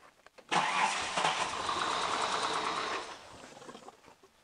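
A car engine cranks and catches, then settles into a steady idle that drops slightly in level after a few seconds, heard close up during a water pump check with no talking.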